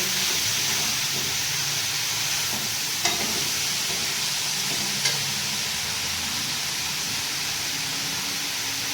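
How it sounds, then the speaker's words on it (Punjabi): Onions fry in a pan with a dense, even sizzling hiss, joined by two faint clicks of a spoon stirring, heard close up and without speech. "ਆਪਾਂ ਨੂੰ ਚੰਗੀ ਤਰ੍ਹਾਂ ਭੁੰਨ ਲਾਂਗੇ ਪਿਆਜ਼ਾਂ ਨੂੰ"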